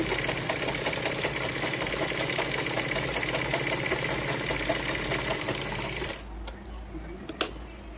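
A sewing machine runs steadily, stitching the lining of a blouse back panel with a continuous rapid mechanical whir, then stops near the end, leaving a couple of faint clicks.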